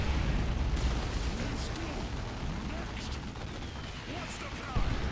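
Grenade blast and battle rumble in the video game Warhammer 40k Dawn of War 2, a dense, continuous roar of explosions and gunfire held steady throughout, with a louder burst near the end.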